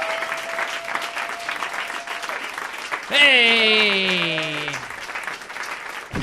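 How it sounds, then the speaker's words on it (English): Studio audience clapping steadily under a lively talk-show moment while a man calls out over it and a swelling musical flourish rises near the middle. "Big round of applause"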